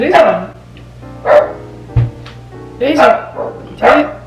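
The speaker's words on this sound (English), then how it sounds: "Sorry, that's my dog." A dog barks close by about five times in uneven bursts, with a person talking between and under the barks.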